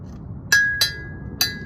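Three sharp metallic clinks from a flathead screwdriver striking a hand auger to knock loose packed dirt, spaced unevenly at close range with a faint ringing tail, outdoors in an almond orchard.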